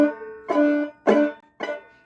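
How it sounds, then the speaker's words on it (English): Banjo clucking technique: four plucked notes, each opening with a scratchy, percussive overtone attack before the tone rings out, evenly spaced and close, with no talking. "What is clucking on the banjo?"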